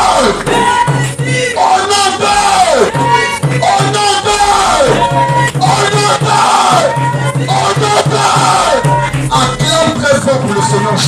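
A congregation at a church service cheers and shouts loudly together, a roaring mass of voices with rising, wavering cries over a low sustained music bed, continuing steadily throughout.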